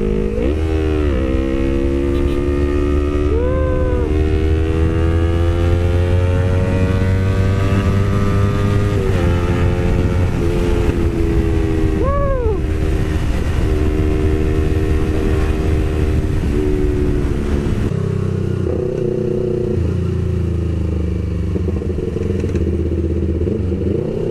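Motorcycle on a street ride with clutchless gear shifts, engine note climbing, then dropping sharply at each change, loud and close throughout with a steady droning hum, no talking.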